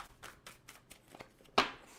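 A deck of tarot cards is riffled and shuffled in a string of soft, quick rustling bursts, ending in one louder snap, close and with no talking.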